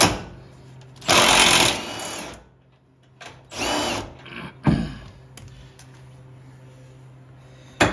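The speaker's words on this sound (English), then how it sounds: "Helps if you put the wrench the right way." Power tool bursts on a 2015-2024 Ford F-150 rear shock bolt during an Eibach shock install: three loud whirring runs of a second or less, separated by quiet gaps, close up in a garage.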